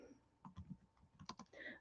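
Quiet typing on a computer keyboard during a live sale, scattered key clicks in small irregular bursts, close but faint, with no talking over it.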